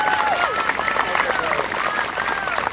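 Audience applause for student speakers at a school moving-on ceremony, a steady dense wash of clapping throughout, with whoops and voices rising over it.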